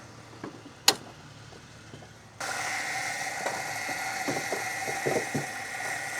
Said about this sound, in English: A ton of vibration and like a weird clunking noise